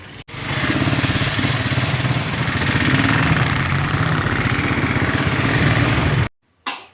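A motorbike engine runs close by, a loud, steady mid-pitched putter with a vibrating buzz for about six seconds before it suddenly cuts out. No voices are heard.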